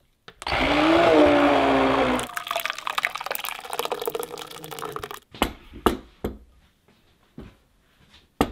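A blender whirs loudly through herb soup for about two seconds, then the motor stops and liquid sloshes and drips with a few sharp clunks and knocks as the container is handled.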